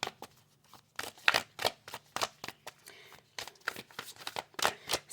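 Cards are drawn from a spiritual oracle deck in a run of close, crisp shuffling and sliding rustles, with brief paper flicks coming in irregular bursts and short pauses, fairly quiet and with no speech.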